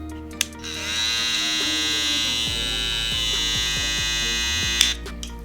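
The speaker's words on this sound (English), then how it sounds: "It is a little bit loud, but I have noticed that all Babyliss trimmers tend to be loud regardless when you open them" Babyliss LoPro FX hair trimmer switched on after a brief click, holding a loud, steady high-pitched buzz close up for several seconds before clicking off near the end.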